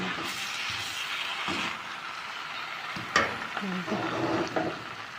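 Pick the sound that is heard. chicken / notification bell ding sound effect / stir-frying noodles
stir-frying noodles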